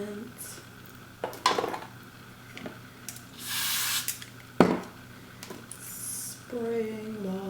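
Hair product sprayed in a few short hissing bursts during a curly lace wig install, mixed with clinks and clatter of items being handled nearby.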